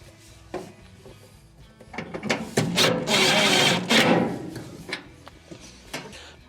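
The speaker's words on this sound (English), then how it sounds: "Next, we will reinstall the screws that hold it in." Screws are driven back in with a 1/4 inch driver while reassembling a GE dryer after a blower wheel repair for noisy running. Soft taps lead into a louder whirring burst in the middle, followed by a few scattered clicks and knocks nearby.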